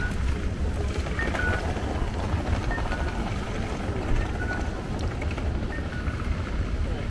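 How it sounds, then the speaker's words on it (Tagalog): Heavy rain pours on a street in Tokyo as a dense, steady hiss and roar, with faint traffic rumble mixed in. "Ngayon kasi talagang yung ulan ibang klase."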